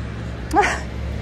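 A small dog, a miniature pinscher, gives one short sharp yip-like bark in the middle, fairly faint against a steady low background hum.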